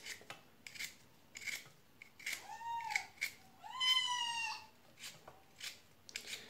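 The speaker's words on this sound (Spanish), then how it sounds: "Por aquí conmigo anda un gatito." A kitten gives two thin rising-and-falling meows in the middle, close and moderately loud, among intermittent rasping scrapes from a beetroot being peeled.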